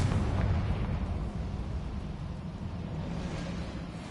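A Confringo blasting spell detonates in the video game Hogwarts Legacy, giving a loud, dense roar of explosive rumble that starts strongest and slowly eases off over a few seconds, with no talking.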